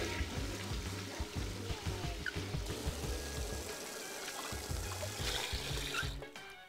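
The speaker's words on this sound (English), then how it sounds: "audio of me flushing a toilet and washing my hands" A toilet flushes and a tap runs as hands are washed in the Persona 3 Portable video game, a continuous pouring trickle heard over a rhythmic low game music loop.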